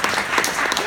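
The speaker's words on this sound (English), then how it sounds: "Let's give a round of applause to this guy." A brief burst of audience applause, dense steady clapping from a crowd at a live author event with Jeff Kinney.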